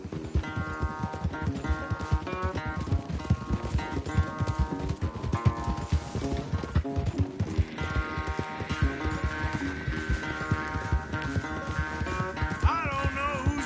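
Rapid rhythmic hoofbeats of a horse galloping in a race in Red Dead Redemption 2, steady clip-clop pounding close up under a swelling musical score, with no talking.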